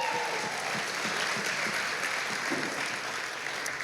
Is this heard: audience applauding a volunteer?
yes